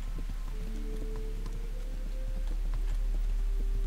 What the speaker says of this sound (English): Now, get off your horse, Henry.